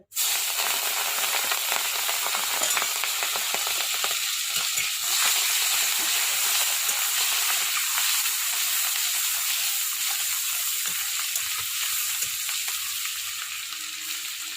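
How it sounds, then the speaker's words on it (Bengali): About 100 grams of peeled shrimp fry lightly in a pan, making a loud, close, continuous sizzle and hiss that fades slightly near the end. "চিংড়ি মাছটা ভেজে নিচ্ছি।"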